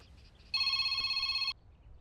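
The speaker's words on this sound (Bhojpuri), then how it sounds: "शिवानी के फोन" A telephone rings once in a dramatic film scene: a single bright electronic burst of about a second, loud over a quiet background, with no speech.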